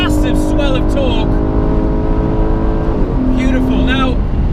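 An Aston Martin Vantage engine revs hard toward 7,000 RPM. It is a loud, continuous roar that climbs in pitch, eases briefly and surges again, heard from inside the car.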